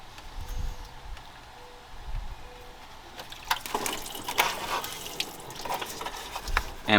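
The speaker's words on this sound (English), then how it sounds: "When you're removing this, you will lose some coolant. I have a bucket set underneath to catch any of the coolant." Coolant pours from a disconnected radiator hose into a bucket beneath a 2011-2017 Honda Odyssey, with faint drips giving way to a louder, steady splashing trickle in the second half.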